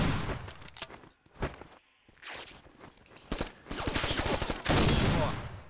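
Gunfire in the shooter video game Black: bursts of rapid shots and impacts mixed with footsteps and game action, fairly loud with dense stretches, no talk.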